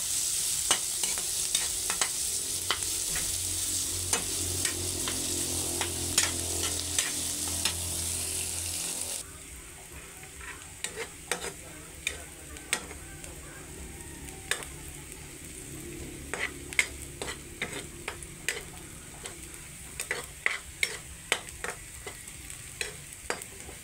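Aromatics sautéing until browned in a pan before snails go in, a loud broad sizzle that drops to a quieter crackle partway, punctuated throughout by rapid clicking spatula scrapes and taps.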